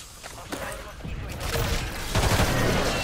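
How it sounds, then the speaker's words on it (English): Bursts of gunfire from a castle in a multiplayer shooter game, several rapid volleys building in loudness over the clip, with players talking over the shots. "still getting shot from the castle"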